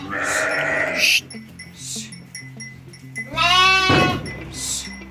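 Sheep and a lamb bleat on a village farm, several loud, close, wavering cries in separate bursts, with a faint tonal hum running underneath.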